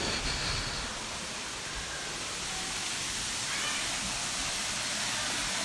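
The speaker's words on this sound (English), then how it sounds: "And the waterfall is just below." Waterfall at Kbal Spean near Siem Reap, Cambodia, a steady broadband rush of falling water, constant and fairly distant, with no voices.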